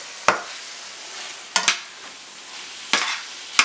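Ground meat frying in a pan while flour is stirred in for tamale pie, with a soft continuous sizzle and a few sharp spoon scrapes and clinks against the pan.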